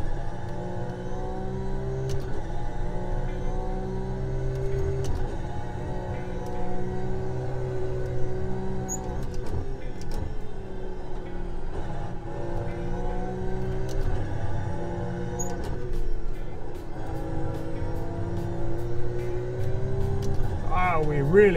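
Race car engine in the rFactor 2 racing game, an Enduracers mod car at Sebring, holding a steady high-revving drone with shifting harmonics as it carries speed down the back straight, with someone talking over it throughout.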